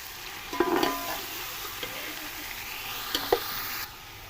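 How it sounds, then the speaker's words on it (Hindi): Chicken for a degi chicken pulao fries in a pan with green chillies, a steady close sizzle punctuated by a few sharp clinks and scrapes of a spatula stirring, no voices. "ये डालकर इसकी बुनाई करेंगे ताकि जो हमारा चिकन है वो अच्छे तरीके से उसके अंदर फ्राई हो जाए"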